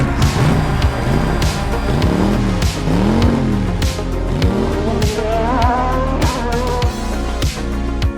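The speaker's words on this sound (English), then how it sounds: "Drivers, start your engine!" Race car engines starting and revving for an intro effect, loud layered roars with rising and falling pitch sweeps and sharp bursts throughout, close and continuous with no talk over it.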